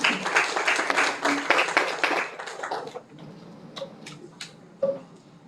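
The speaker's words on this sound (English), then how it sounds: "A round of applause," An audience claps at a university library talk for World Philosophy Day, a dense round of applause that fades out after about three seconds, leaving a few scattered late claps.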